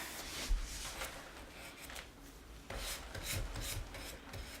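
A graphite finish being buffed off a wooden dressing stool by hand, a steady dry rubbing and rasping close by, in two long strokes with a brief pause between, no talk.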